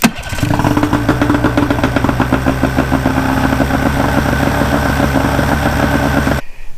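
An outboard motor runs steadily on a fuel hose supply, a loud, close, continuous engine drone with a rapid mechanical pulse that holds throughout and cuts off abruptly at the end.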